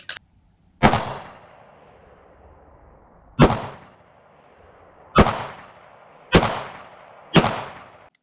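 Five loud, sharp pistol shots from a Smith & Wesson M&P Shield 9 with a stippled grip at an outdoor range, spaced irregularly a second or two apart, each with a short decaying echo.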